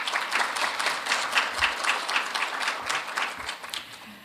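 Conference audience at a global forum on innovation and governance applauding Professor Grail after his presentation, a moderately distant, even patter of many hands clapping that holds steady and thins toward the end.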